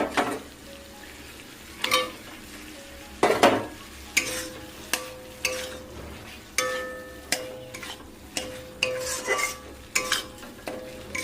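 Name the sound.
eggs being stirred and fried in spice paste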